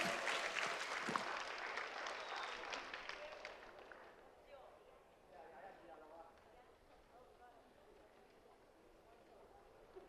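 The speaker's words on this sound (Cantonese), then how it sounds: "俾多啲掌聲啊！" Applause from a dance showcase audience in a cinema, a dense clatter of clapping loud at the start, then thinning and fading over several seconds into a quieter room murmur.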